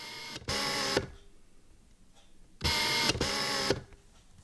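The autofocus motor of a Canon EF 35-135mm f/3.5-4.5 zoom lens, an older non-USM drive, whirs loudly in two bursts, each lasting about half a second, separated by a quiet pause.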